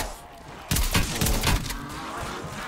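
Gunfire from a gun in Call of Duty Zombies, a loud burst of rapid, heavy shots with thudding impacts, close and dense for about a second before fading into a softer rumble.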